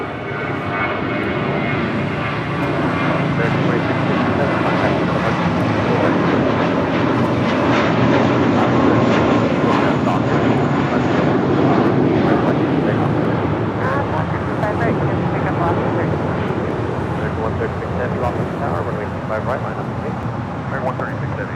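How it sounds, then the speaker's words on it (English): An American Airlines Airbus A321 jet takes off at LAX, bound for Cabo, producing a loud, sustained broadband engine roar that stays steady and close throughout. "That was American Airlines Flight 2657 heading to Cabo in an A321."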